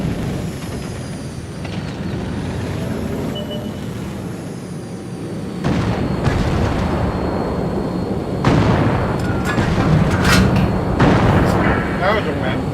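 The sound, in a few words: artillery fire explosions in a video game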